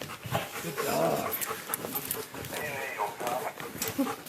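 Police dog with a dog squad panting steadily and close by, rhythmic breathy pants running throughout while a handler speaks over it.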